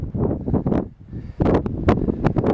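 Gusty wind buffets the microphone on a high Sierra mountain ridge line near 12,670 feet, coming in low rumbling surges with a brief lull in the middle.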